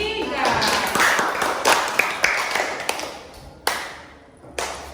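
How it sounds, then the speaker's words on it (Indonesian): Students in a classroom clapping for a group of classmates, scattered uneven claps and taps of modest size that thin out and stop in short bursts, with some background chatter. "Tepuk tangan untuk kelompok 3."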